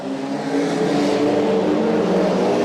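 Several race cars, including BMW 135 and BMW 130 models and an HSV GTS, accelerate hard together off the line at the start of a circuit race, a loud steady multi-engine roar that swells and holds.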